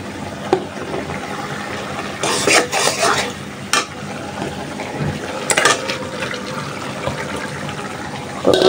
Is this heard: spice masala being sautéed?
yes